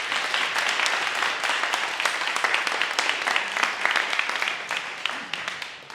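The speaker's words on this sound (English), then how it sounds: "You can probably hear the clap, the round of applause." An audience at a StarkNet ZK rollups event gives a round of applause, dense continuous clapping that stays steady for several seconds before tapering slightly at the end.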